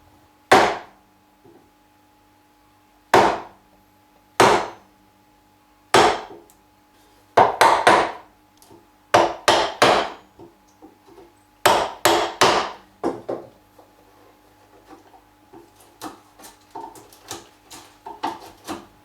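A mortise is chopped into wood for a rustic bench. Sharp, loud chisel strikes with a mallet come close by, first as single knocks spaced a few seconds apart, then in quicker clusters of blows, with no talking.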